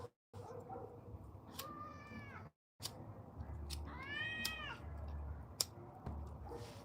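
Several cats meow outdoors at night, two clear drawn-out calls standing out over a steady low background hum, with a brief gap of silence early on.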